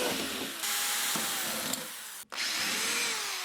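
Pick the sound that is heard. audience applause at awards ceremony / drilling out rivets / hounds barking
drilling out rivets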